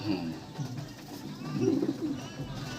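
Andhra pigeons coo in low, throaty bursts that peak in the middle, with a faint background voice and some mild clutter throughout.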